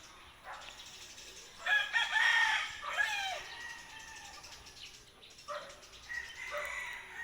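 Rhode Island chickens crow and cluck nearby outdoors, with a strong rooster crow in the middle followed by softer clucks and calls against a quiet background.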